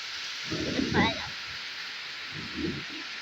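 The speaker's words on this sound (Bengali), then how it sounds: "প্রচুর ঝড় উঠছে আকাশ" Steady rush of rain and wind from a thunderstorm with a couple of low rumbling swells, plus a faint muffled voice briefly in the mix.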